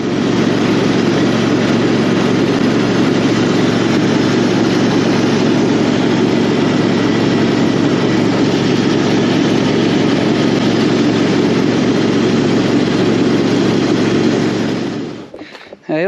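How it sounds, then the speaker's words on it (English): An orange riding lawn mower engine running steadily, a loud, close, continuous drone that holds for most of the stretch before cutting out abruptly near the end. "I'm going to jump on the orange mower"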